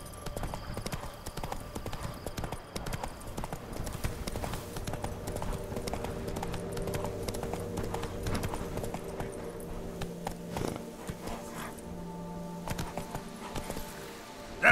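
Horse hooves gallop in the video game The Witcher 3, a continuous rapid clip-clop rhythm over a low ambient game score, steady and moderately loud throughout, with no talking.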